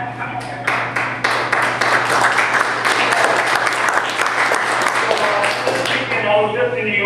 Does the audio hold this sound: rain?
no